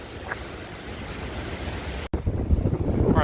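Strong hurricane wind during Hurricane Isaias in 2020, blowing beside a river, a loud, roaring gusty rush buffeting the microphone with a brief dropout and heavier bursts afterward.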